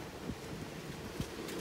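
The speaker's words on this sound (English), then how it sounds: "don't mind the wind. Definitely windy today" Wind blows steadily outdoors beside a grill where venison tenderloin is cooking, a low, rough buffeting rumble across the mic with a couple of brief thumps.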